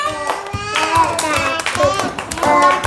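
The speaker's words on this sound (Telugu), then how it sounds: "క్లాప్స్ కొట్టండి." A classroom of children claps during a first-grade subtraction activity, with quick irregular hand claps mixed in among young voices talking and calling out over them.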